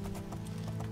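Horse hooves clip-clop in the fantasy video game Oblivion, a steady, even walking rhythm of hoofbeats over a low continuous ambient drone.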